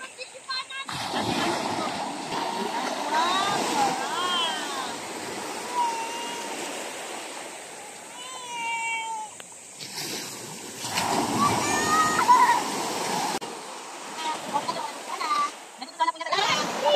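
Water splashes and sloshes in repeated surges while excited voices shout and laugh over it, with a steady rushing background.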